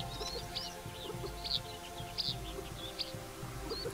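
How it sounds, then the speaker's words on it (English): Crested larks, chukar partridges and pale rockfinches gather at a desert water source in Israel, giving short, scattered chirps and twittering calls over a steady low background hum. "Crested lark, chukar partridge, and pale rockfinch flock to the life-giving water that remains."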